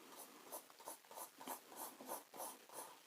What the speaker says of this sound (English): I'm just going to draw a quick example for you.